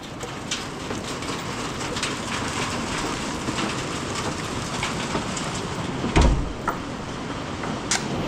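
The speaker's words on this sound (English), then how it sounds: "Is it hailing? Or is that just rain? Yep, it's hailing." Hail falls in a steady, dense patter of hard hits, with a few sharper knocks standing out near the end. It is fairly loud and continuous, with no talking.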